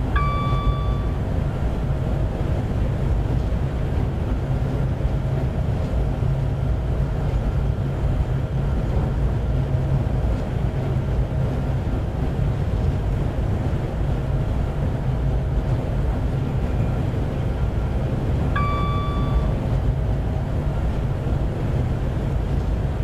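A Class 390 Pendolino electric train runs at speed between Rugby and Stafford in Train Simulator 2016, a constant low rumble and rushing noise throughout, with brief cab alert tones at the start and again near the end.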